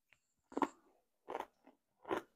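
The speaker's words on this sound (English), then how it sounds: "do you hear that crunch?" Three sharp, close crunching bites into crispy lacy cornbread topped with turkey hash, each burst followed by brief chewing, separated by short quiet gaps with no talking.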